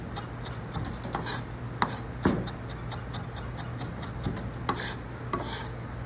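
A knife mincing parsley on a cutting board during a knife skills test, with repeated quick chopping taps at an uneven rhythm over a steady background hum, close and moderately loud.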